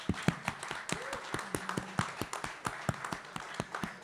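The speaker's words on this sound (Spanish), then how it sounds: "Por favor, un fuerte aplauso para Alfredo Rosso y Claudio Kleiman." Scattered, sparse clapping from an audience at a vinyl reissue presentation, honoring two Argentine music journalists; individual claps ring out at an uneven rhythm with a faint tonal sound and light background murmur.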